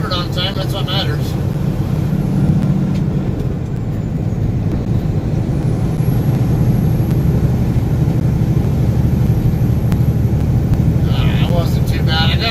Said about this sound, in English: I got almost to the top end of my RPM range there with 8th gear